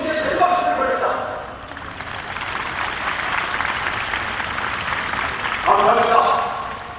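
Audience applause at a national taekkyeon (Korean martial art) competition event, a broad wash of clapping from a crowd that swells and fades, with a speaker's voice over a PA at the start and end.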